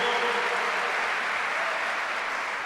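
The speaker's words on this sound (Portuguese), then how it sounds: "dá um aplauso bem forte ao nosso Senhor" A church congregation claps loudly and steadily during a Sunday worship service, a dense, sustained wall of applause that fills the room with no voices rising above it.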